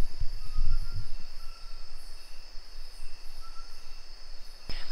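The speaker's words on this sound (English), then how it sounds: "they're the ones that make the really loud noises in the jungle" Insects, likely cicadas, drone loudly and steadily in a jungle, a continuous high buzzing that fills the whole stretch with a brief low rumble near the start.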